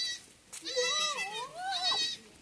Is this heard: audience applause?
no